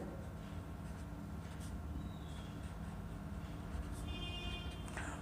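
Marker or chalk scratches faintly on a board in a few brief strokes over a steady low background hum, with no speech.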